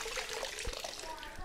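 Water splashes and trickles as an absorbent cloth is dipped and wrung out, a close, continuous watery rush with a couple of soft drips and thuds.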